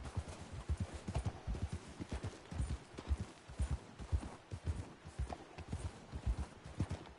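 Horse hooves clip-clop steadily in a quick, even rhythm in Red Dead Redemption 2, fairly faint and continuous throughout, with no talking.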